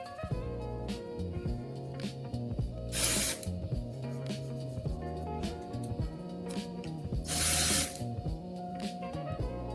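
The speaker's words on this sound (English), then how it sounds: "After I put the dry shampoo" Dry shampoo sprayed onto hair in two separate hissing bursts, a few seconds apart, close by over steady background tones.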